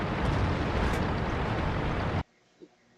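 Artillery shell blast in the tank battle game World of Tanks: a loud, dense roaring explosion lasting about two seconds that cuts off abruptly, followed by near silence and one faint distant thump.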